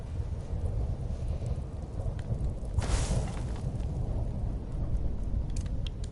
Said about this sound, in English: we've got a storm brewing at the moment, and it's been hanging over Riften for a day